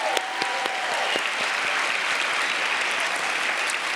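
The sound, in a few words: audience applause for National Book Award finalists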